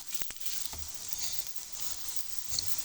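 Mooli paratha sizzling in cooking oil on a pan, a soft, even hiss near the pan with a few light taps and no talking.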